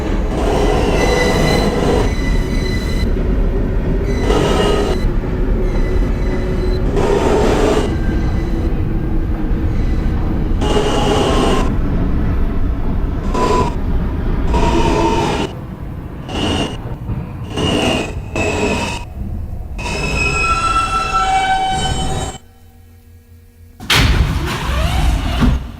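A Manhattan-bound F local subway train in New York City runs loud and steady, its wheels squealing in sharp repeated bursts, and it drops briefly quiet near the end before the rumble resumes.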